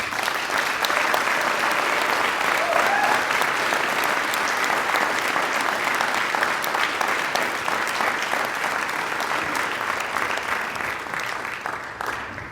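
Sustained, dense applause from a large convocation audience at a Founders Day ceremony, loud and continuous for the whole stretch, tapering only slightly at the end.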